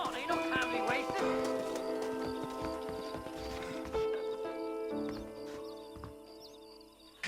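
A horse in the Western game Red Dead Redemption clip-clops along under steady ambient game sound and music, with occasional faint bird calls, while a character speaks over the hoofbeats.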